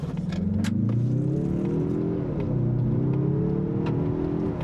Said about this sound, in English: to the speed limit on the road, which is 80 kilometers per hour, from a standstill on wide open throttle